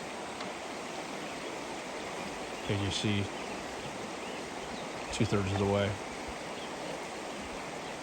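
Steady broadband rush of river water flowing throughout a river crossing at Bear River, with brief bursts of a commentator's voice talking over it twice.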